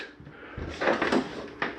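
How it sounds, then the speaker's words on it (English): Cabinet doors and drawers inside a 2021 MesaRidge 371MBH travel trailer are shut one after another, a few short close knocks and thumps over about two seconds, near and fairly quiet, with no talk. "Make sure all doors and drawers are closed."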